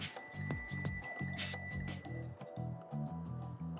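Wine is poured from a bottle into glasses in a run of gurgling glugs, with soft clinks of glass between pours, close and fairly quiet.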